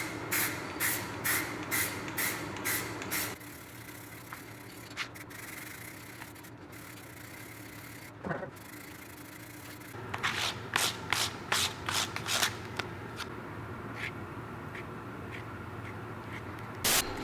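Spray paint hisses in quick repeated bursts of wheel silver onto car wheels, short rhythmic puffs near at hand, with a longer quieter stretch of steady spraying in between and another rapid run of bursts afterward.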